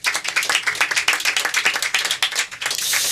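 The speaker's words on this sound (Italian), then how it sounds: "Un applauso." Applause at a press conference for a silk black tulips short film festival, a steady patter of many hands clapping together, fairly close and full, with no voices over it.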